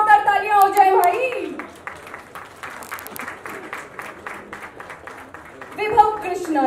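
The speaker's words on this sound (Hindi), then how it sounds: "इनके लिए जोरदार तालियां हो जाए भाई" Audience applause breaks out at a Bollywood movie trailer launch for Love Ke Funday, a fairly loud burst of crisp clapping between stretches of an announcer's voice at the start and end.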